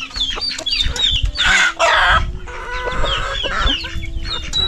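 Native chickens cluck and squawk close by, with overlapping calls and a brief loud burst of flapping and squawking in the middle, over a steady low hum.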